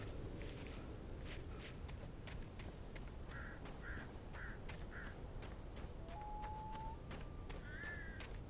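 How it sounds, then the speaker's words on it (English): Crows caw several times in short bursts in the Alan Wake video game, heard faintly at a distance over soft footsteps and outdoor ambience. "Birds."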